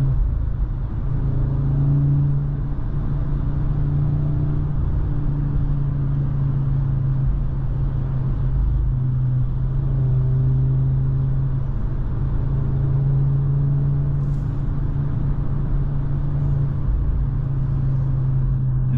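An Audi RS3 Sportback driving in performance mode, with a steady low engine drone and rumble heard from inside the cabin, continuous and fairly loud, with no talking.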